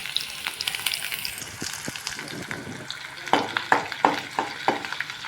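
Small onions sauté in a pan over high flame, crackling close by with a lively sizzle and a run of rhythmic clacks from a spatula stirring them.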